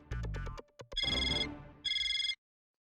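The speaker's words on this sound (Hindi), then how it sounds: "लगा लगा पीयूष भाई को फोन लगा।" A phone ringtone sounds as a call is placed in a comedy sitcom scene: a short melodic jingle of bright electronic tones, then repeated high ringing bursts, loud and clear with no talk over it.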